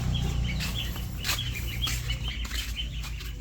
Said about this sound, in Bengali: মুরগিটা বাঁধে রাখছি, আর মুরগি কোন জায়গায় ডিম পাড়ছে